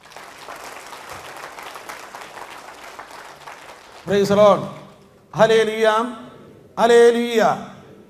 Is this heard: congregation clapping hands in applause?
yes